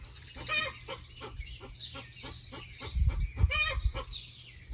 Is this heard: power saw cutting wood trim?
no